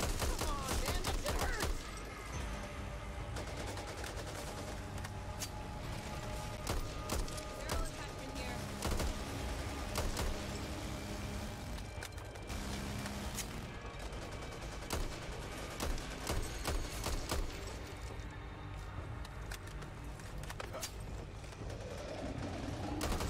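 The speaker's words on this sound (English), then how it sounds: "Watch the hawker just get wiped out by your turret there then" Sustained automatic turret gunfire in the video game Back 4 Blood, dense rapid shots rattling almost without pause over a busy game soundscape, with people talking over it.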